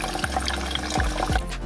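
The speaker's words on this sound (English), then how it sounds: "you'll see that the water flows through the tube" Pump pushing water through a tube, a gurgling, bubbling flow with a few low descending glugs as pockets of air pass through, close and steady.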